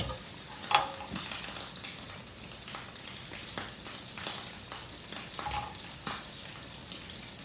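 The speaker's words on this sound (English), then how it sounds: "Stir it in, mix well." Canned tomato being stirred into a simmering pot of cioppino seafood soup, with soft sizzling, wet scraping and spoon clinks against the pot, fairly quiet and close with no talking.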